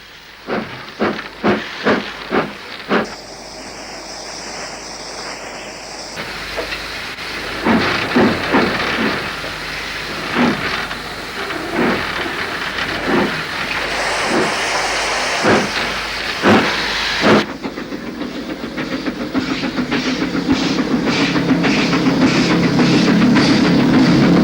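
Steam hissing at a locomotive shed on a 1968 British steam depot, a loud continuous hiss with rhythmic chuffing bursts at the start and again later, building steadily louder toward the end.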